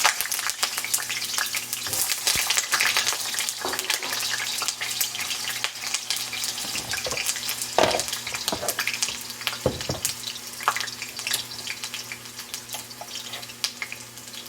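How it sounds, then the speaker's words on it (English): Sliced potatoes frying in hot mustard oil for a Bengali fish curry, a steady close sizzle running throughout with occasional stirring scrapes and clinks. "I'm going to add my sliced potatoes."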